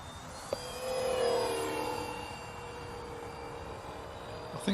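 An RC model airplane engine gives a buzzing, growling whine that swells after a brief knock and then drones steadily at moderate distance, its pitch drifting slightly before a sharp clatter at the end.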